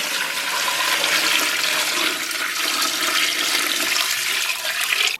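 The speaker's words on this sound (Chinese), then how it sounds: "然后给里边稍微来点水" Water gushes loudly and steadily into a pot of braised pork hocks with spices and stir-fried aromatics, a continuous close rushing pour with no talking.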